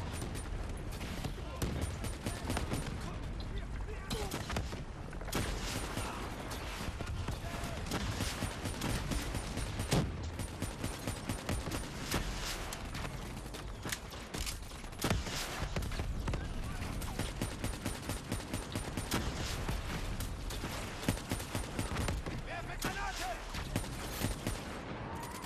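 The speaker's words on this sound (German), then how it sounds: "Wer schießt da so sinnlos auf den Ding?" Dense, continuous gunfire from a Call of Duty: Black Ops 3 campaign battle, loud sustained bursts and rapid automatic fire filling the whole stretch with barely a pause.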